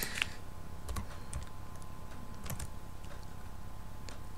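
Typing on a computer keyboard, a sparse run of light clicks and key taps at close range over a steady low hum, with no talk.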